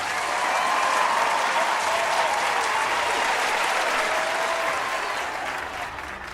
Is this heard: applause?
yes